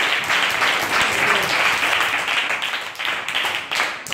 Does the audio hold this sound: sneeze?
no